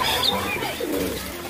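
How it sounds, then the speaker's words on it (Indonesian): A soft, low cooing call from a pigeon, brief and close, over a faint hiss. "ini ternyata ada burung merpati"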